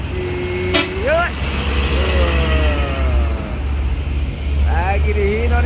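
Hino truck at the Merak harbour ferry dock, engine rumbling loudly and steadily while horns toot in short bursts and people shout and talk over it.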